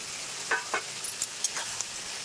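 Fried fish pakoras for chilli fish go into sauce in a pan over a high flame, giving a soft steady sizzle broken by a few short bright crackles and stirring clinks, with no talking.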